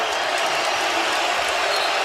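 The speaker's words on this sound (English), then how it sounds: "here comes the crowd again at the pit" A basketball crowd roars inside the Pit arena in New Mexico during a San Diego State game, a dense, loud, sustained cheer with no clear breaks.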